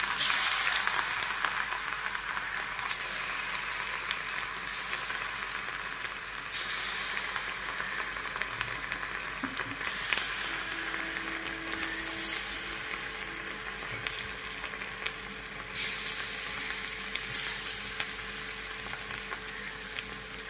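Cauliflower pakoda fry in hot oil, a soft continuous hiss and sizzle with faint bubbling pops, low and steady throughout with no voices.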